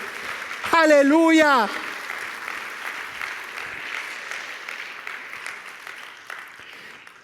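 A church congregation applauds to honor Jesus, steady clapping that runs throughout while a voice shouts loudly near the start.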